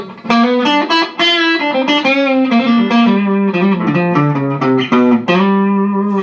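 A thicker-toned electric guitar with a humbucker pickup plays a melodic phrase of sustained, slightly overdriven notes through a Vox VT80 amp with no reverb, loud and up front.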